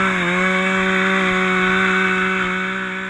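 A power saw makes a top cut through a roof, with a steady, loud, buzzing motor whine running continuously and fading slightly at the end.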